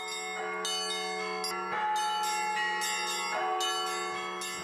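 Russian church bells in Moscow ring continuously, a dense, loud wash of overlapping metallic tones with repeated fresh strikes layered over a sustained humming resonance.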